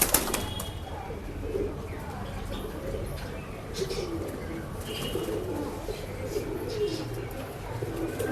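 A male racing pigeon coos and flaps its wings inside a Bangalore pet shop, a soft continuous throaty cooing with occasional wing flutters amid a busy, noisy room, with people talking nearby.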